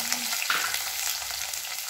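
Onions frying in a pan for a spicy village-style dry fish curry, a steady loud sizzle with crackling and a brief stir, no talking.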